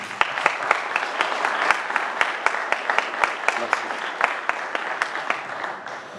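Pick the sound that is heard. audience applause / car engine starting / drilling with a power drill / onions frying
audience applause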